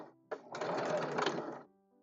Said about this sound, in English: I've got my machine on a pretty small stitch length for doing this